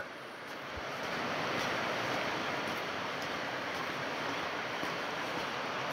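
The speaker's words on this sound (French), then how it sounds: "Et on a toujours ici la rivière." A river in an adventure video game rushes in a steady, broad wash of flowing water that swells after the first second and then holds at an even, fairly loud level, with no voices.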